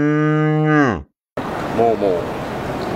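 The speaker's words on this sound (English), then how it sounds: "Oh, cow. Cow." A cow lets out one long, loud, close moo that trails off, followed by a short silence and then noisy background with a faint, wavering call.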